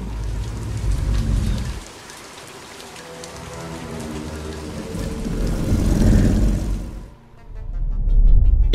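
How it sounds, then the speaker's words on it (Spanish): Violent storm in a movie trailer, with heavy rain pounding a surface and deep rumbles, easing briefly midway, swelling again, then dropping to near silence before a final loud burst. "La tormenta es violenta."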